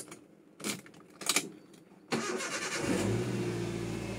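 A 1300cc Type G car engine starts after a few clicks and knocks, then idles steadily and smoothly at close range with no talk.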